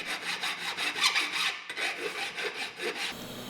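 A hand file rasps over the trimmed sheet-metal corners of a John Deere tractor fender, rhythmic back-and-forth strokes, close and fairly bright, about seven passes with a short pause midway; no voices.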